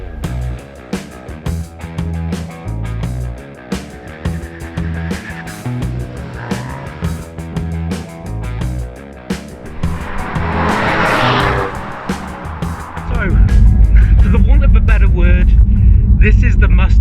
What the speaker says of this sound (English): It's a turbo Mustang. Let's take it for a drive and see how it handles.